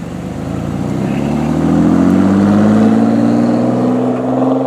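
An Alfa Romeo Giulia Quadrifoglio's engine drones steadily from inside the cabin while driving, its pitch climbing gradually as the car accelerates, loud and continuous with no talk.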